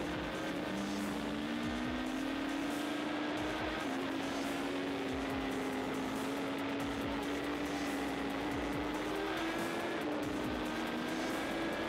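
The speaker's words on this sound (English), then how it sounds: "Coming out into the short back straight, you'll see and hear the DTC at work again." BMW RR sport motorcycle on a racetrack with DTC traction control intervening on corner exit, its engine drone rising with small stutters and dips, heard under heavy wind noise throughout.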